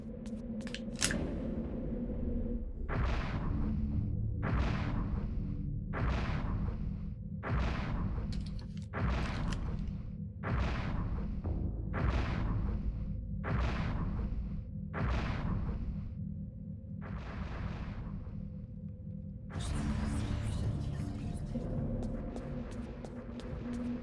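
Shotgun blasts in the video game Eternal Darkness, about a dozen sharp booming shots spaced roughly a second or two apart over a low droning ambience, loud and close.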